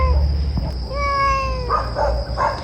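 A cat in a carrier meows loudly at close range: one long rising-and-falling cry, then three shorter nasal mews in quick succession, over a low rumbling background.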